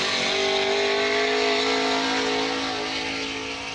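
Drift car on Falcon tires with a Borla exhaust and Vortex supercharger revs hard at a St. Louis qualifying event, a loud, steady, high engine drone held for several seconds before easing slightly.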